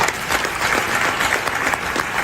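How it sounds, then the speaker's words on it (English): Dense, steady applause from a live keynote audience in the UAE, many hands clapping together in a continuous full-room roar with no talk over it. "A round of applause, please, for Miss Samuels, doing an incredible job,"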